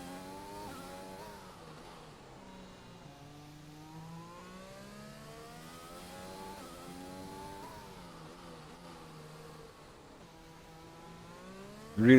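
F1 race car engine in an online racing video game, a continuous high-pitched whine rising and falling through gear changes as the car accelerates out of corners, steady and loud with no talk.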